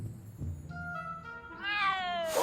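A cat meows in the Back to the Future video game, a quiet low murmur followed by a drawn-out rising meow that swells and ends in a sharp burst, heard alone.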